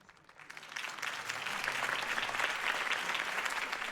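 Applause from a large crowd in the Batman Telltale video game swells up from quiet and holds as a dense, steady wash of clapping.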